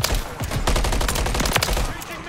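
Rapid gunfire from a match of Modern Warfare 3, loud and close with dense overlapping shots in quick succession throughout.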